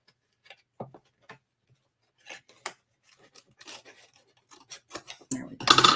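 Paper being snipped with scissors to trim an extra flap from a folded paper bag-and-card craft, a few sparse close cuts and rustles building to a louder crisp cut at the end.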